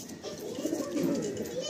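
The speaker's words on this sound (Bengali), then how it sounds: "এটা নর পায়রা" A male Madrasi pigeon coos up close in a loft, its low, throaty rolling coo continuing steadily.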